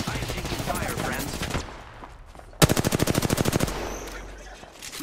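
Rapid automatic gunfire in the Apex Legends game, a dense burst of about a dozen loud, evenly spaced shots that starts suddenly and runs for about a second, following a stretch of busy game noise.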